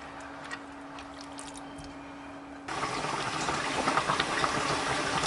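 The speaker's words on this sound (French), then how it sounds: "quand ça arrive à une belle ébullition, on va baisser le feu" Pork curry in a pot, heard as a quiet low simmer that suddenly swells into a louder, fuller bubbling boil that continues steadily, close and without talking.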